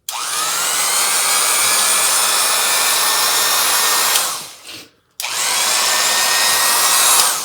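An old Craftsman electric drill running after being plugged in, a loud steady motor whine that stops briefly, spins down and then starts again at full speed, close by.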